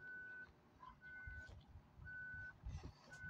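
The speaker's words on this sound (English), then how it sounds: "Okay, we're backing up." A bus backing up in Bus Simulator Ultimate sounds steady, evenly spaced electronic reversing beeps that repeat about once a second, fairly quiet over a low engine rumble with some faint clunks.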